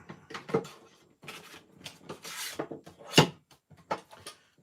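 Paper is cut with a trimming tool while making a handmade album, with close scraping, sliding and rubbing strokes and a sharper knock near the middle, all fairly quiet and without speech.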